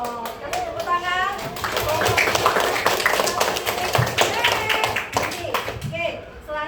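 A group of children clapping their hands together in a classroom, a dense burst of quick claps with young voices chattering and calling over it.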